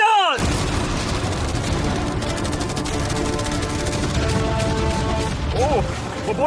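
A dense, nonstop barrage of cannons and machine guns firing at a yacht in a video game, with booms and rapid crackling overlapping loudly from start to finish.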